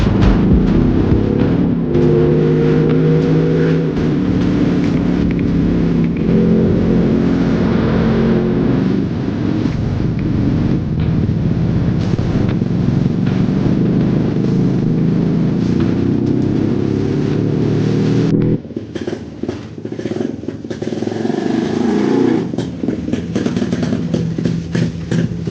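A Yezdi motorcycle being ridden, its engine droning steadily and loud for the whole stretch under heavy wind rush, with a noticeable change in tone partway through that suggests a gear shift.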